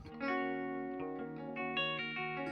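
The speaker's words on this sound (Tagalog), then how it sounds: "yung reverb na naririnig nyo, nanggagaling yun sa amp mismo, yung clean amp ng Amplitude" Clean electric guitar runs through an AmpliTube 5 clean amp model, played with an MVAVE Chocolate Plus controller, ringing out sustained chords and notes with reverb tails that linger between strums.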